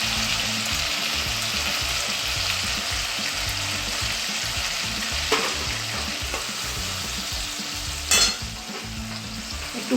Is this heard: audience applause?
no